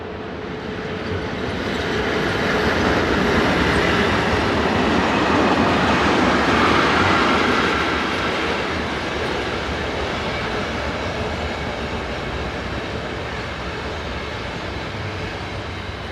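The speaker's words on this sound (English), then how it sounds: "Post train number 50734, the 1934 from Egerkingen to Delens, headed by 11297, was running a few minutes early." A Swiss post train headed by locomotive 11297 rolls past between Egerkingen and Delens, a loud, steady roar of wheels and motors swelling to a peak mid-pass, then easing off while still close.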